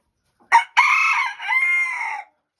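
A bearded Belgian d'Uccle bantam rooster crows close by, one short clipped note followed by a drawn-out, wavering cock-a-doodle-doo, loud and clear with no other sounds.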